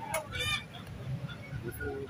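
Aseel roosters at a Sunday bird market in Lalukhait give a few short, bright calls close by, over a steady din of crowd chatter and people talking.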